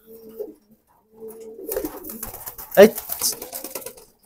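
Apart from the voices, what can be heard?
pigeons cooing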